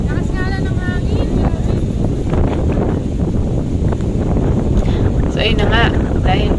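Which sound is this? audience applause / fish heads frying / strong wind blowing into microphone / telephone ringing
strong wind blowing into microphone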